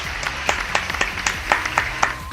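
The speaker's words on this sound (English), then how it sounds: "Please give these 3 lovely doctors a round of applause." Audience applause for three guest doctors on a talk show, heard as a thin scattering of separate claps at a moderate distance, with no one speaking.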